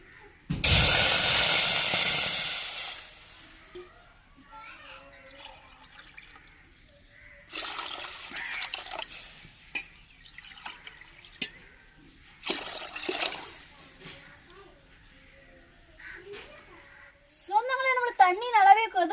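Water pours into a cooking pan for semolina kesari in a strong hissing burst, followed by shorter splashes and trickles with quiet gaps, and a faint voice near the end.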